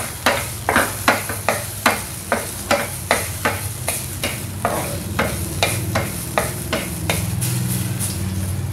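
Ginger frying in a pan for sizzling milkfish, a continuous loud sizzle broken by a regular series of sharp scraping stirs, roughly two per second, close up and with no voices.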